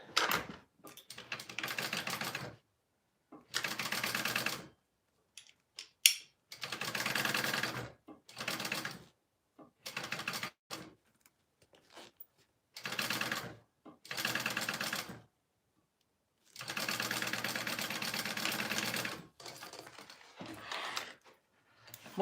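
A sewing machine stitches a 1/8 inch seam on a pocket piece in short, rapid bursts of mechanical rattling, separated by quiet pauses, moderately close.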